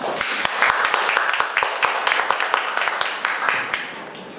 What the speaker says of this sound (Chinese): 大家掌声欢迎她